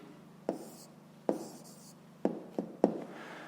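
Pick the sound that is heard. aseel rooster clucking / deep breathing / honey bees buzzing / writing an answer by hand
writing an answer by hand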